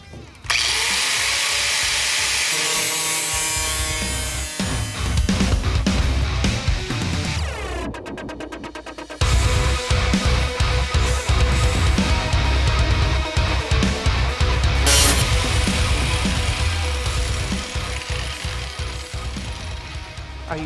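Angle grinder with a cutoff wheel grinding down metal while fitting a JZX110 shifter base onto an AR5 transmission, a loud continuous whine that runs almost nonstop with a brief pause near the middle.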